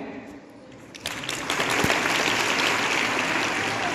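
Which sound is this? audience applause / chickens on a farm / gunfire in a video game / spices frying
audience applause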